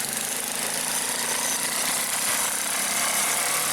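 A home-built go-kart engine at a karting track runs loud and close, a steady high buzzing drone that holds without pause for the whole stretch, with no voices over it.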